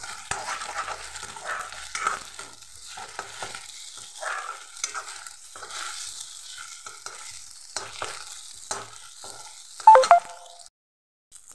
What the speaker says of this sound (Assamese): অলপ সময় ভাজি ল'ম।